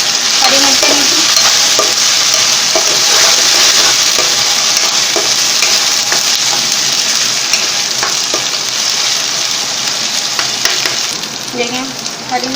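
Green chillies and ginger garlic paste fry for khichdi in a pan, a loud steady sizzle with occasional stirring scrapes and clicks, close and continuous.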